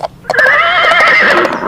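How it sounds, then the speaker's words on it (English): A horse neighs once, close and loud, a shrill whinny that wavers and trembles for over a second before fading, preceded by a couple of short snorting breaths. "horse."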